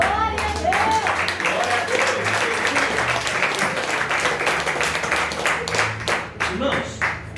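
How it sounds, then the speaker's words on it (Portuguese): A church congregation at an Assembleia de Deus youth service in Maringá applauds with dense, sustained clapping that fades slightly near the end, while voices can be heard under it. "Vamos assentar e depois você aplauda Jesus Cristo"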